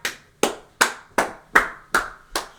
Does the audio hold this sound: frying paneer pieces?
no